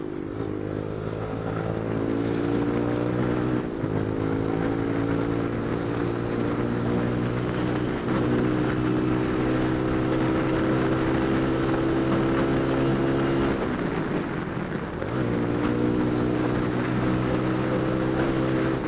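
A motorcycle being ridden with a wobbling front and back end gives a steady droning engine whose pitch drops and climbs again every few seconds, close and continuous with no talk.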